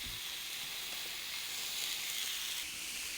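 Frozen Angus Bubba burgers grill indoors under a cover, giving a steady, close sizzling hiss that swells slightly midway and carries on alone without pause or talk.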